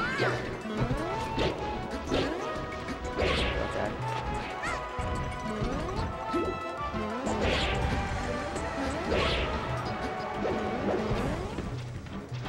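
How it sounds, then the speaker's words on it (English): Forward smash hits land in Super Smash Bros. Melee, with Ice Climbers and Dr. Mario facing Marth. Repeated sharp crashing thwacks strike at irregular intervals over game music and effects, and a commentator talks throughout. "Looks like forward smash is like really effective. He's gonna do it again."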